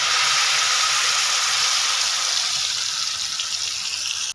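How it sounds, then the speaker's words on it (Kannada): Masala for Mangalore-style fish masala fry sizzles in coconut oil in a pan. A loud, steady frying hiss runs evenly for several seconds, then cuts off abruptly. "ಈಗ ಮಸಾಲಾನ ಫ್ರೈ ಮಾಡ್ಕೊಳ್ಳೋಣ."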